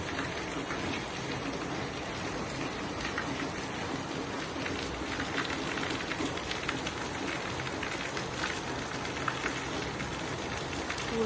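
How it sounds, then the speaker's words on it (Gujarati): Heavy, unrelenting monsoon rain pours down outdoors, a dense, steady roar of drops drumming on surfaces that holds at the same level throughout, with no voices. "આમ અનરાધાર વરસાદ વરસે છે કાલ સવારથી જ."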